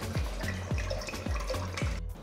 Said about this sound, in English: So to the pot, take enough water for boiling.